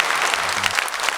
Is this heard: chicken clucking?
no